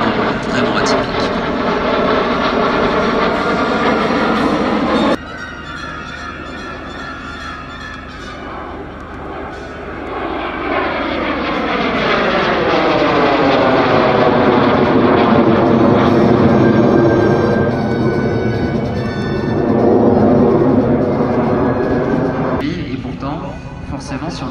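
Messerschmitt Me 262 jet aircraft at an air show, a loud sustained engine roar that swells and sweeps in pitch as it passes, with a person talking over it.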